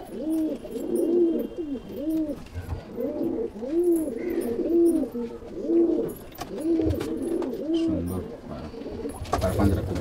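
Pigeons in a loft coo in a steady, regular series of rounded, rising-and-falling calls, close and clear, repeating almost rhythmically throughout.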